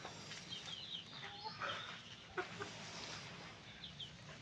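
Hens on a farm cluck softly and intermittently, a few scattered calls rising over a quiet, steady background hum.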